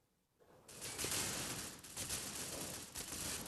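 Sustained, rapid gunfire from the mobile shooter Critical Ops bursts in after a brief quiet moment and keeps rattling loudly and densely to the end, with no talk.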